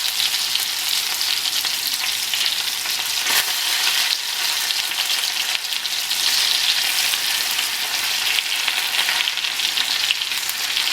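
Perch fillets fry in melted butter in a pan, a loud, dense, continuous sizzling hiss that holds steady throughout without any talking.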